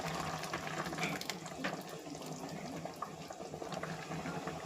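Water poured into a pot of white chicken gravy with ground coconut, a steady close trickling and gurgling stream that runs throughout.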